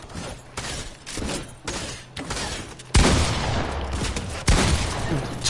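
Gunfire in the video game Fortnite, a series of loud, punchy shots in an irregular rhythm, including pump shotgun blasts, with a heavier burst near the end, close and dominant with no talking.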